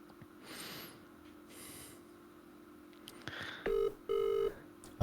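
Outgoing phone call ringback heard during a Minecraft stream, two evenly spaced electronic ring tones in the second half, preceded by quiet breathing and a sniff.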